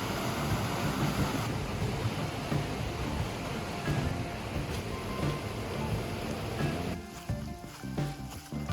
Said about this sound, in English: Nice little waterfall to our left.